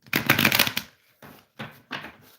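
Tarot cards are shuffled close up in a long riffling burst followed by three shorter flutters, crisp and papery, with no talking.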